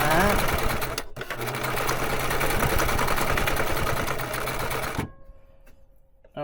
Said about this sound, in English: Oh, I love this sewing machine